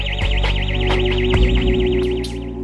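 A wavering electronic siren loops steadily at close range, its pitch rising and falling rapidly, with a few dull knocks and low hum underneath.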